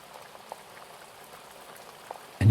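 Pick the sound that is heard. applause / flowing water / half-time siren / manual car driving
flowing water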